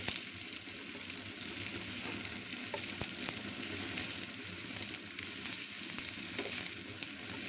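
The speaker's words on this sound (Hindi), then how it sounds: "इसी से प्याज को थोड़ा सा हम ब्राउन करेंगे।" Onions frying in hot oil for an aloo paratha masala, giving a steady, dense sizzle with occasional faint stirring clicks, close and continuous without talk.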